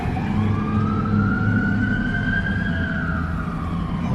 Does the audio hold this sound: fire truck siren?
yes